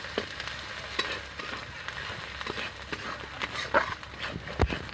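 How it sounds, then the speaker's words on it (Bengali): Spices with salt and turmeric sauté in a pan, giving a low crackling sizzle broken by repeated scraping stirs and a few sharper knocks, fairly quiet and unaccompanied by speech. "আমি এখানে লবণ দিয়ে দিচ্ছি, আমি এখানে হলুদ গুঁড়ো দিয়ে দিচ্ছি। সব মশলাগুলো ভালো করে কষিয়ে নেবো।"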